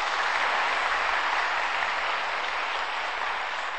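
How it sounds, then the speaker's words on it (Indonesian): An audience at a church seminar bursts into dense, sustained applause. The clapping stays loud and steady for several seconds, with no speech over it. "Beri tepuk tangan buat Tuhan"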